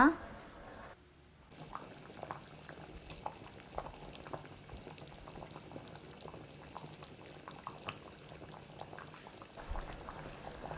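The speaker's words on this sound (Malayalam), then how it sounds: "നമ്മുടെ മീൻ കറി ഇവിടെ നന്നായിട്ട് തിളച്ച് കുറുകി വന്നിട്ടുണ്ട്" Chempalli fish curry boiling and thickening in a pot on the stove, a soft, continuous burble of thick bubbles popping irregularly, fairly quiet and close, after a short clatter at the start.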